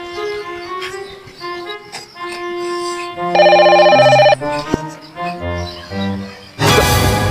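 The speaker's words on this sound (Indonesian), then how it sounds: "Kayak ada bunyi suara HP nih." A mobile phone rings at a house with a melodic electronic ringtone, repeating tonal phrases that come through fairly loud and close.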